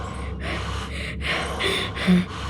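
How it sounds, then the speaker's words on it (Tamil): A man pants hard, out of breath after running, in a series of close, rhythmic gasping breaths with short pauses between them. "ஓடி வந்து மூச்சு வாங்குறாரு"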